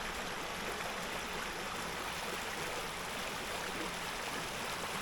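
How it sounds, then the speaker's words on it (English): A creek in southern Indiana flows steadily with a constant broadband rush of water, close and even throughout, with no voices over it. "Go ahead and show you the creek here."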